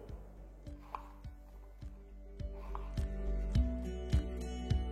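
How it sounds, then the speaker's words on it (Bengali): A knife chops pointed gourd (potol) on a board in a home kitchen, cutting about ten sharp, fairly regular strokes that grow louder toward the end, with no voices. "যতটা পটল আমি নিয়েছি তার হাফ আমি এখানে কেটে নিচ্ছি"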